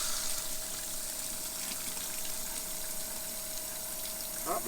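Hot water running from a bathroom tap in a motorhome, a steady close hiss of flowing water that continues unbroken before a brief clatter at the end.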